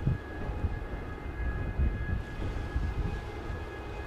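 Airliner on its takeoff roll from runway 07 at Montego Bay's Sangster airport, a steady broad engine roar with a thin whine on top, moderately loud and heard at a distance, no voices.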